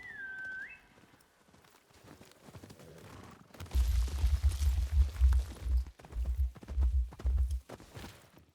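Horse hooves clip-clop in the video game Ghost of Yotei, a loud steady run of low thuds for several seconds with brief gaps, preceded by a short whistle and quieter footsteps.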